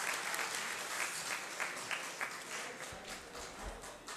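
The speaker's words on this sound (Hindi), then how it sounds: "आप अपने लिए तालियां बजा दीजिए" An audience at a spring festival poetry recital (mushaira) in Khushab claps steadily, a dense moderately loud patter of many hands with some individual sharp claps standing out, fading a little near the close.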